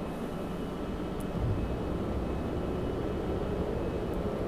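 A jet fighter in the Vietnam-era flight game Strike Fighters 2 roars on a carrier deck during launch, a steady, dense engine rumble and rush that holds without a break and swells slightly partway through.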